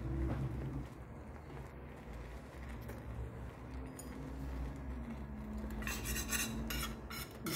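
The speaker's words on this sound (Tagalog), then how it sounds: "Continue whisking lang po para hindi magbuo-buo ang ating yoghurt mixture with egg" Yoghurt and egg mixture whisked in a pot for a chicken dish, a steady scraping, clinking stir running continuously up close, with brighter metallic ticks toward the end.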